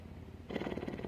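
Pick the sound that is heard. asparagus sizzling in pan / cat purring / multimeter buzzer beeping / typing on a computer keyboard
cat purring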